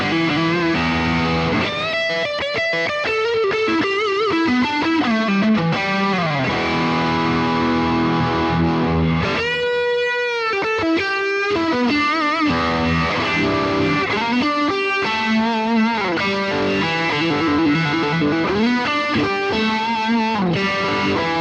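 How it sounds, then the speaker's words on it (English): An electric guitar plays through a Boss GX-100 vibe distortion patch. Gritty, sustained notes and bends carry a pulsing, swirling wobble, loud and close, with no talking throughout. "I'm using a vibe effect on this, but that's switched in by using the controller pedal"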